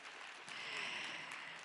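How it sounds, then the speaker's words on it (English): Audience applause at a conference award ceremony, a steady broadband wash of many hands clapping that swells slightly midway and holds at a moderate, even level throughout. "So please give her an extra large round of applause"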